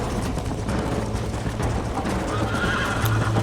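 Rapid hoofbeats of a galloping horse pound steadily while a horse neighs, all loud and close with continuous game-like background noise, from the video game Red Dead Redemption.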